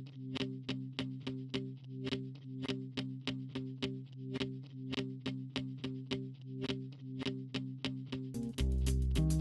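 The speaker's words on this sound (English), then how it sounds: "Let's try out the reverse effect on the guitar loop." A guitar loop played in the Dr. Octo Rex loop player with some slices reversed, a steady rhythmic pattern of repeated plucked hits at an even tempo that ends in a sudden louder burst.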